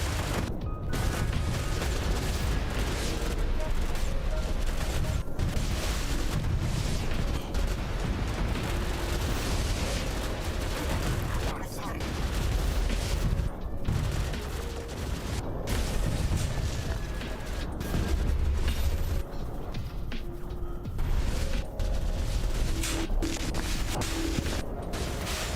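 Missile launchers fire repeatedly in the RTS game Rogue Command, producing loud booming launches and explosions over a dense, rumbling battle din, with sharp impacts scattered throughout.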